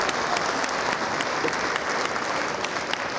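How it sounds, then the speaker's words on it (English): Audience applause fills an awards ceremony hall at the BAFTA Children's Awards 2018, a steady, dense wash of clapping from a large crowd that continues evenly throughout without pause. "Another round of applause."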